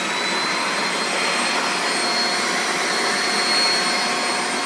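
A kitchen blender grinding aioli ingredients with the lid on, a steady, loud whirring roar that holds constant and uninterrupted throughout.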